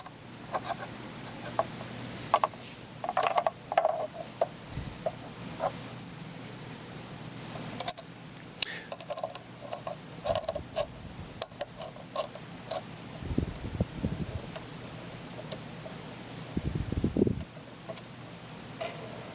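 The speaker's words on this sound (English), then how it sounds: "Now we're just going to go ahead and get these screws in all 8 holes" Quarter-inch screws being driven by hand through a bracket into the mud flap holes of a 2010-2018 Ram 1500/2500/3500 SRW, fitting a Rokblokz step-back mud flap: scattered light ticking and clicking with a few dull low thumps, close by.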